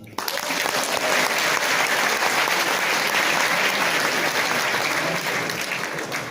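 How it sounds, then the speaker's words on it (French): A comedy show audience applauds steadily, loud and sustained for several seconds before tapering slightly at the end. "Et pour ça, il faut nous applaudir."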